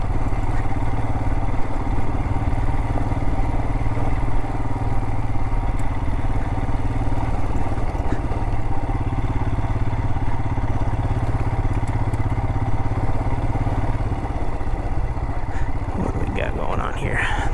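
A motorcycle climbs a rocky canyon jeep trail, its engine a loud, close, unbroken drone with faint clatter from the rough ground and a brief rattle near the end.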